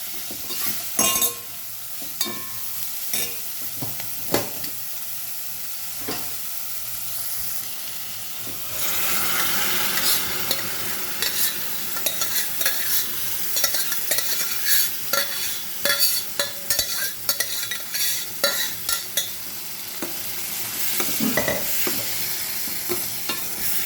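Cooked lentils being stirred into greens in a pot for a one-pot bele soppina kadabu, with frequent close scraping and clacking of the spoon over a constant hissing sizzle, loud and with no talk.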